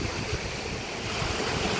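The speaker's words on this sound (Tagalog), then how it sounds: "Naririnig mo yung alon." Steady rushing surf washes continuously, broad and noisy like waves breaking nearby, with some wind buffeting and no voices.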